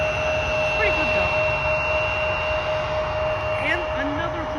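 A jet airliner arrives at Vancouver International Airport, a steady loud engine roar with a high whine and broadband rush, heard from a fair distance amid faint background chatter.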